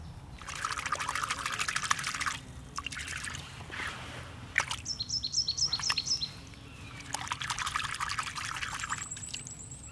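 Lesser celandine roots being washed in a stream, with water pouring and trickling in bursts by hand, close, while birds chirp and call in the background.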